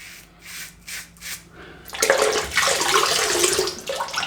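A shaving razor fitted with a Platinum blade is swished under running water. A few brief rinsing splashes come first, then a louder, steady close rush of water.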